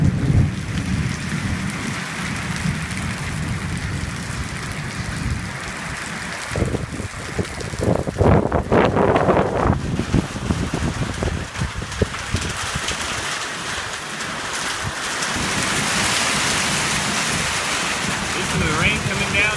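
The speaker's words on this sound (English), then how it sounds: "the wind's really starting to blow the rain under over here" Heavy wind-driven rain pours steadily through a Northeast Texas thunderstorm, with a deep rolling thunder rumble building near the middle. The downpour stays dense and close the whole time, and no one speaks.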